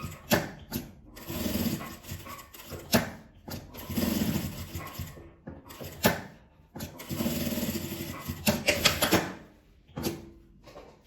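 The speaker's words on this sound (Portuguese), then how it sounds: "Aqui eu vou passar uma costura, fechando ela toda" A sewing machine stitching a fabric flap closed, running in repeated bursts of fast whirring that start and stop, with brief quiet gaps between runs.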